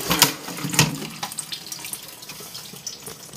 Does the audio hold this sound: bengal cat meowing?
no